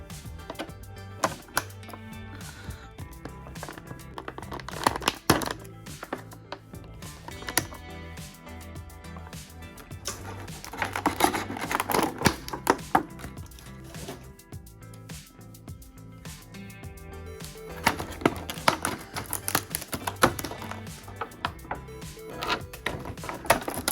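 Wonder Woman action figure from a McFarlane Shazam Fury of the Gods line being pulled from heavily taped packaging, with irregular close crinkling, ripping and tapping of plastic and cardboard, no voice.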